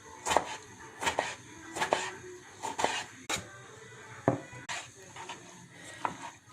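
A knife chops cooked eggplant on a cutting board in irregular taps, about a dozen soft thuds with short pauses, close and moderately loud, with no talking.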